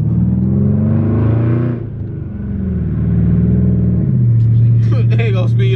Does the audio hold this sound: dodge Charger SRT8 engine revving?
yes